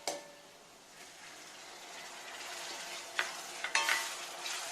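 Tomato and onion sautéing in a pan with chicken, a soft continuous sizzle that grows slightly toward the end, broken by a few clinks and scrapes of a spoon stirring, with no talk.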